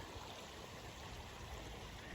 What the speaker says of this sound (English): just in a small creek,